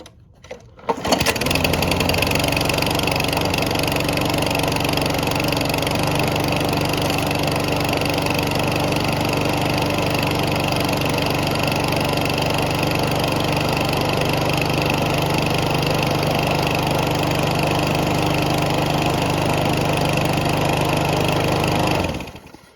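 A freshly repaired lawn mower engine starts and runs loud and steady close by, a continuous rough droning hum with a slightly vibrating tone, then cuts off at the end.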